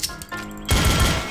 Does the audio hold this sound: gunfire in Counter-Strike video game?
yes